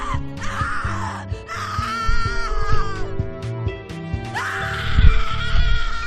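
Anguished human screaming and wavering wails from the horror video game The Cat Lady, rising in long, loud, strained bursts over a low droning game soundscape.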